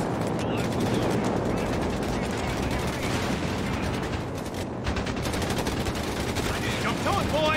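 Enemy gun firing in the Company of Heroes 3 winter battle, with rapid bursts of gunfire and clattering shots running steadily through a loud, busy combat din.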